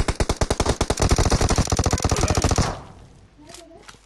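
Rapid automatic gunfire in PUBG on the Sanhok map, a loud, close burst of evenly spaced shots lasting about two and a half seconds, then a quieter tail with faint distant sounds.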